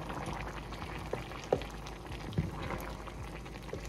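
Okra simmering in a pot with baby lima beans and smoked turkey, a soft continuous bubbling with a few small pops and plops, fairly quiet and close, no talking.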